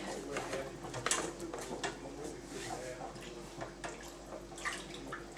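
Milk is stirred in a pot to make Camembert cheese, giving a close, continuous swishing and liquid churning with occasional utensil knocks, while people talk over it.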